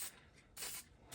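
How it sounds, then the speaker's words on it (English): Engine enamel being sprayed onto an engine cylinder head from an aerosol can, three close, steady hissing bursts separated by short pauses. "now I usually put a pretty heavy coat on this engine enamel"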